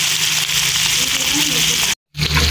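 Hilsa fish fries in hot oil in a pan, giving a steady, close sizzle that continues throughout, broken by one brief cut.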